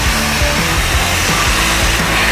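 A DA vacuum sander runs in an auto paint and body shop, a loud continuous whirring drone with a steady motor hum, close up, with no talking.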